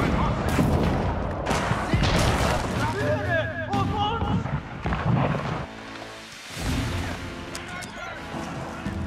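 Volleys of gunfire in Age of Empires IV, a dense, loud battle din of overlapping shots and booms with German-speaking voices shouting over it throughout.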